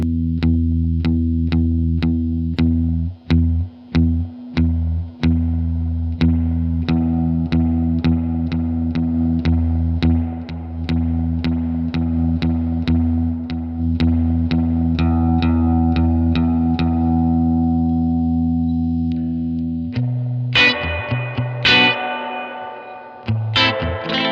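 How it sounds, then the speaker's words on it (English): An electric guitar played through an amplifier with its reverb engaged, sustained chords with a steady rhythmic pulse and a wash of echo, ending in a brighter strummed flourish; no one speaks. "I want to hear that reverb."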